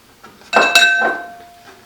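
A spoon clinks against a bowl or pot while oatmeal is stirred with powdered milk, sugar and cinnamon: a couple of close, ringing metallic chimes that sustain briefly and fade, with no talk.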